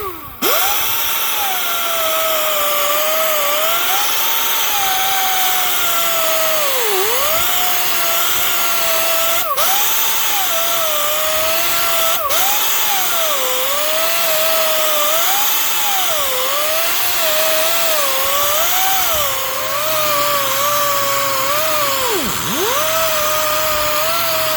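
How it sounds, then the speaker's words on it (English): A handheld grinding stone works a custom metal panel, grinding steadily in a loud, continuous whine that dips and rises in pitch as the pressure shifts, with a couple of sharp clicks and no talking. "All I'm using is the old grinding stone, and I'm just grinding away and trying to find the lowest point in it."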